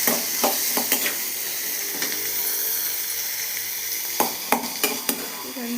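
Mixed vegetables fry in hot oil with green chillies and ginger in a pan for vermicelli upma, a steady loud sizzle broken by occasional scraping stirs of a spoon.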